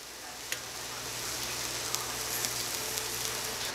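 Peruvian apple cactus flowers fry in a pan with a steady, close hiss and crackle, broken by a few sharp pops and light stirring.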